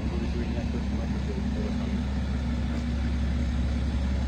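A car engine, just given an oil change with Trident 5W40 plus BG additive, idling smoothly and steadily up close, a continuous low even hum with no misses or knocks.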